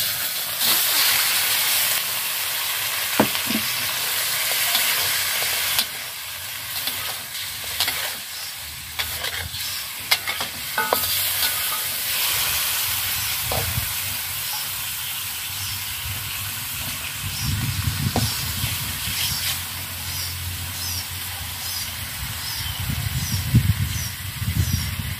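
Pieces of old chicken fry in a pot for a soup, giving a dense, continuous hiss and sizzle with scattered crackles and occasional stirring clatter throughout.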